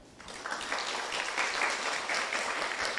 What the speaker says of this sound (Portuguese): palmas para o grupo 1.